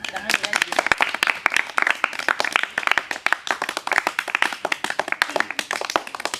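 An audience at a riddle game claps in a rhythmic, fairly close patter of sharp individual hand strikes, with voices chattering underneath.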